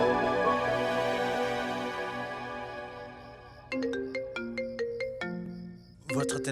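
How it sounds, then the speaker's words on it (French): A mobile phone ringtone plays a sustained melodic chime, then a rhythmic run of bright repeated tones, clear and fairly loud with no talking over it. "Votre téléphone sonne."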